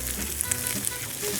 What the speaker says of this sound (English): So I'm just gently frying my onions here.